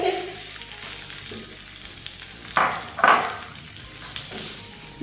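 Boiled potatoes sizzle and fry in a pan with turmeric and spices for aloo paratha filling, a steady close sizzle broken by a few louder stirring scrapes.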